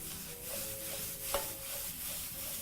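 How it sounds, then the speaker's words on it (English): Vegetables fry in a pan with a steady, fine sizzle and hiss, close and constant, while a utensil gives soft scrapes and rubs as it stirs. No one speaks. "proceed to fry everything in your pan for another 1 minute"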